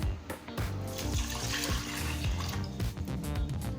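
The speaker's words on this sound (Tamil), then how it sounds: "இப்போ நான் 1/2 கப் தண்ணி சேர்க்குறேன்." Water pours steadily into a pressure cooker, a continuous splashing gurgle lasting a few seconds with no talking.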